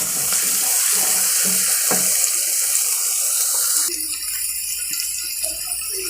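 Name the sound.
chicken frying in a pan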